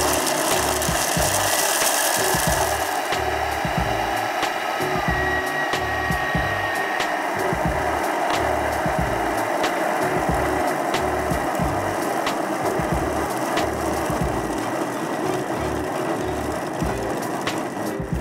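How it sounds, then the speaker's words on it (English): A food processor at high speed blitzes cake ingredients in a bowl, a continuous loud whirring grind with rapid rhythmic knocking as pieces strike the bowl, steady throughout with no talk. "continuously blitzing till you hear the parts of it stop hitting the"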